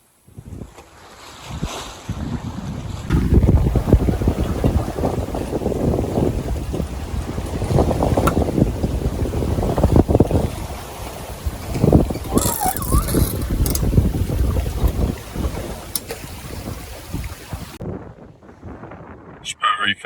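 Steady wind roar and rushing waves aboard a sailboat heading toward Monterey in about 12 knots of wind, loud and close with gusty buffeting and mic wind noise throughout.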